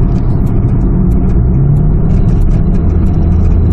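A 2001 Hyundai Verna car fitted with non-powered turbo intake swirlers drives and accelerates on a road, its mid-pitched engine note droning steadily and loudly close by throughout.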